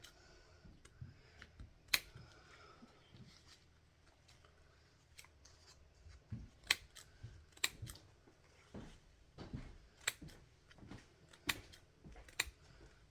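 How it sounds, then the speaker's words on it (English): Scissors cut glitter paper into rough squares, giving crisp, sharp snips at an irregular pace with quiet rustling of paper between them, close and fairly soft. "I'm just going to cut them up and make them squares so that I can make my shamrock design with the glitter paper"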